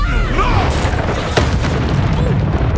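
A Reducto spell blast in Hogwarts Legacy, a loud booming burst of magic in the midst of dense, continuous combat noise.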